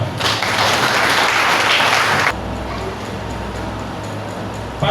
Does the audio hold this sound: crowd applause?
yes